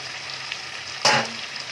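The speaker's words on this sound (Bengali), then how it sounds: "এবার আমি আলুগুলোও দিয়ে দিচ্ছি, যাতে আলুগুলোও কিছুটা মাংসর সাথে গলে যায় কষতে কষতে।" Mutton and potatoes go into hot spiced oil and fry, with a steady soft sizzle and then a sudden louder hiss and splutter as the potatoes hit the pan before it settles back to a gentle fry.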